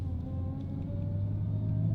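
A Hellcat V8 with Valvetronic valve mufflers closed idles or cruises in a low, steady, subdued rumble, smooth and continuous with no revving.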